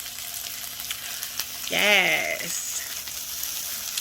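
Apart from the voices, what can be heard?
vegetables sautéing in a pan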